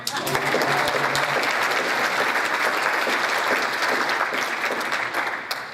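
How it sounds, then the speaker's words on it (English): Sustained applause from an audience at a community outreach event, dense steady clapping that fills the room for several seconds at even loudness with no talk over it. "Can we give another round of applause?"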